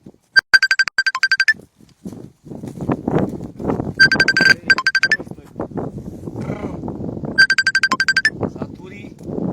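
A phone rings in repeated bursts of bright electronic trills, three separate spells spread across the stretch, close and loud, with a voice talking in the gaps between them.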